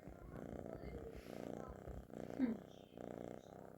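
A cat purrs close up, a low steady rumbling that rises and falls with each breath.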